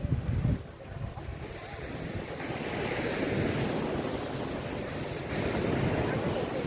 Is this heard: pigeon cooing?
no